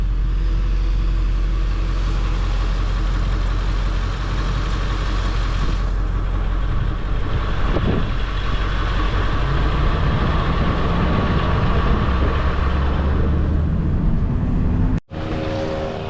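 A truck rolls along a road on the north side of town, giving a loud, steady engine rumble with road noise that fills the whole stretch, then cuts out briefly near the end.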